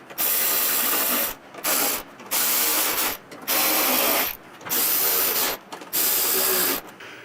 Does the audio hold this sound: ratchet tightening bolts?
yes